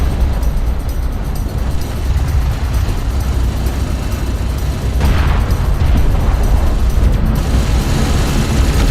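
An explosion as a strike craft is destroyed in the desert strategy game Homeworld: Deserts of Kharak, a heavy rumbling boom that swells midway over a dense, continuous battle din.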